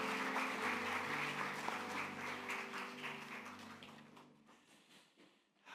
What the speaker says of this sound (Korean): 우리 태국 선교팀 축복하고 또 격려하는 마음으로 우리 박수 한번 하겠습니다